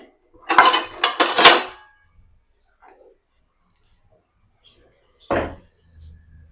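A metal utensil clanks against a pot while sambar is stirred: a quick cluster of sharp clinks and scrapes, a long quiet pause, then one more clank near the end.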